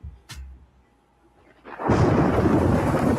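A thunderstorm sound effect in a roofing radio ad: a sharp crack and fading low rumble of thunder, a brief lull, then heavy rain rushing in loudly and holding steady, with no voices.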